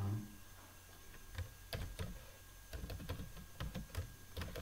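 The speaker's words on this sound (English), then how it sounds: "we will type" Someone types HTML on a computer keyboard, giving quiet irregular key clicks in short bursts with brief pauses, close and soft against a faint background hum.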